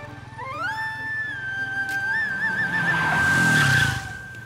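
A car skids to a stop with a long, loud tire squeal that wavers in pitch over engine rumble, then trails off into a noisy scrape as it halts close by. No voices are heard.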